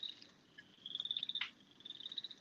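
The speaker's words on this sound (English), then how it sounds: "We just heard crickets." Insects or frogs chirp outdoors at night in Georgia, a faint, steady run of rapid high-pitched trills that rise and fall in pulsing bursts across a quiet background.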